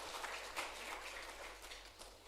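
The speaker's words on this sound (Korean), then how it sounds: "우리 박수로 축하해 주시기 바랍니다." A church congregation claps in celebration after a Sunday service announcement, a continuous soft patter of many hands heard from a distance over a steady low hum.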